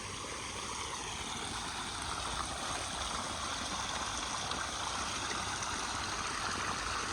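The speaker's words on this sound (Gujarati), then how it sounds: "પાણી કઈ રીતના હાલે ને એ તમને હું દેખાડું" Steady rushing water flows without pause through a channel, a broad continuous wash of sound close by with no voices.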